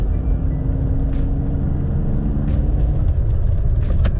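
A BMW E36 323i with an automatic transmission brakes hard. A loud, steady road and engine rumble comes from inside the car, with a few brief clicks over it.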